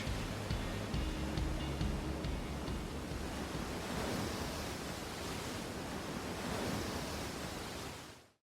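Steady roar of ocean surf at a Costa Rican beach, loud and continuous broadband wash with no distinct breaks between waves, carrying wind noise on the microphone, then cutting off abruptly at the end.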